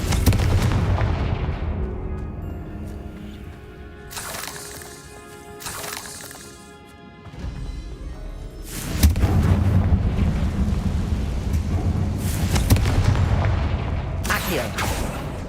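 Confringo blasting spells erupting in Hogwarts Legacy, repeated heavy booming explosions amid ongoing combat rumble. A quieter lull comes midway, then louder, denser blasts return for the final stretch.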